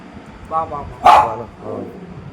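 A dog gives a few short barks, one louder sharp bark in the middle, close by, with a voice nearby.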